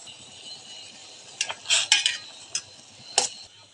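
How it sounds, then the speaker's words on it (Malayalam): Hibiscus flowers stirred in boiling water in a pot, giving a few soft, separate scraping clinks of a spoon against the vessel over a quiet background. "എന്നാൽ നമുക്കൊന്ന് ഇളക്കി കൊടുക്കാം"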